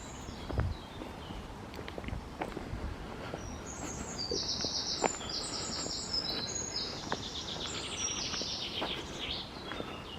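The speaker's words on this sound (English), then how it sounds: "I was trying to be quiet so you can hear the birds" Birds chirp and sing in bursts of high, bright calls over steady outdoor background noise on a riverside walk near a large railway bridge, with a few soft thuds of footsteps nearby.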